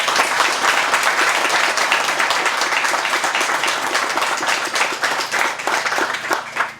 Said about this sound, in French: J'aimerais ça pour une dernière fois qu'on leur donne une bonne main d'applaudissement.